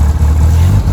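A 1958 Morgan Plus 4 engine catches and rumbles loudly at close range, settling into a low, steady idle.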